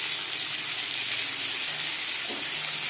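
Potatoes seasoned with salt and turmeric fry steadily in a pan with a loud, continuous sizzle and hiss throughout, with a faint stirring scrape near the end.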